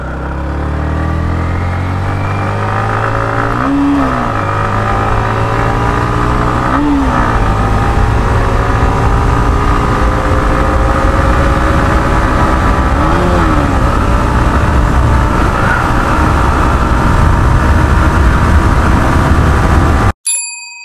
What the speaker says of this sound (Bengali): এই ছিল বাইকটা 0 to 60 0 to 100 স্পিড টেস্ট